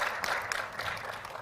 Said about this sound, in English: maybe we should clap for her